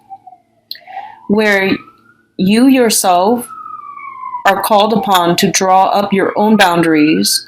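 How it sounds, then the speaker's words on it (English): An emergency vehicle siren passes outside, its faint rising and falling wail running beneath someone speaking close to the mic, heard mostly in the pauses between her words. "excuse the siren."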